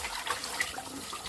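Meat rinsed under a running tap, a short steady splash and patter of water falling close by, with no talk.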